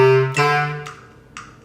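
A bass clarinet plays a short audition excerpt with one added B natural: a sustained low note, then a few quick accented notes, close and clear with no voices.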